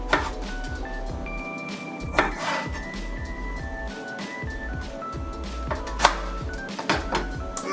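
Sharp knife chopping jalapeno peppers on a cutting board in a home kitchen, a steady run of close, crisp thuds with a few louder knocks, no talking.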